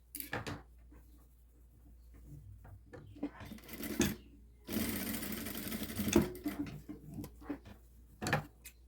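A sewing machine stitches a seam on a boy's children's outfit, running in several short, brisk bursts of rapid needle chatter separated by quiet pauses and handling noises.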